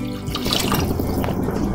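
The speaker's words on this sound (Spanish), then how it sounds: "Le vamos a poner 1 litro de agua." Water pours into a pot of fava bean soup with seasoned tomato, a steady close splashing and trickling that runs continuously, with no talking.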